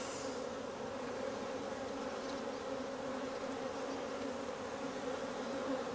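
Honeybees hum steadily at an open hive during a brood-chamber inspection, a dense and continuous buzz that stays close and even throughout with no talking.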